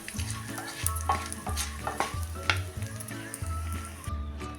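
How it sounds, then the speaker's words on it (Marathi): Edible gum (dink) frying in ghee for jaggery and poha laddoos: a steady crackling sizzle broken by a regular stirring or scraping rhythm about every 0.6 seconds, close and continuous with no voices. "हा चांगला लालसर होईपर्यंत तळून घ्यायचा, नाहीतर तो आत कच्चा राहतो।"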